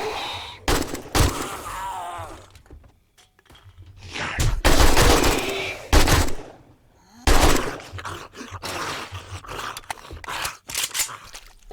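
Bursts of gunfire at a firing range in the survival game 7 Days to Die, loud clustered volleys with short gaps and quieter stretches between them, no talking.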